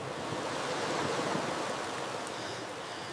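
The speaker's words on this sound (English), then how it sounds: "The flood is coming down from the valley." Floodwater rushes down from a valley into flooded streets in Afghanistan, making a loud, continuous churning roar that swells slightly and then holds steady, with no voices heard.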